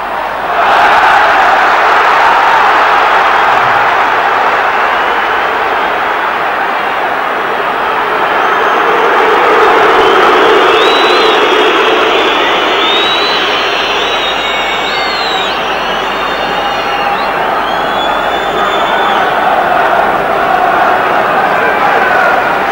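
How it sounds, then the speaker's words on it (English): Football stadium crowd at a 1994 Premier League match between Sheffield Wednesday and Tottenham Hotspur, home and Spurs supporters roaring and chanting in a steady, loud, continuous wash of cheering that swells and holds throughout. "the home crowd certainly behind their team, the Spurs fans behind theirs, as Ian Walker prepares this goal kick"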